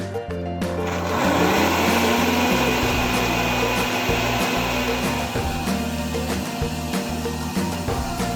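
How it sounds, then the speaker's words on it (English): A kitchen blender purees red onions and pickled cucumber with dill for tartar sauce. The motor whirs loudly and steadily for about eight seconds after a brief start, with the pitch shifting as the contents churn. "with our Fast and Furious blender, I made a beautiful puree from the red onions, the pickled cucumber"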